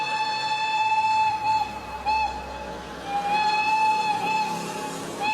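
An old train in Solo, Indonesia, with a long steady whistle tone that sounds repeatedly in drawn-out blasts over a low rumbling background, fairly loud and close, with no voices.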